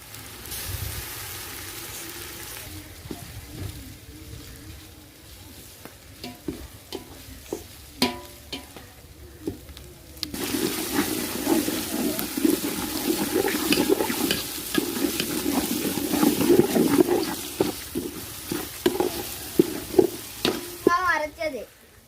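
Green chillies and tomatoes frying in a pan for chicken biryani: a scrape and stir at first, then a loud steady sizzle swells up with spoon stirring and clinks, close by.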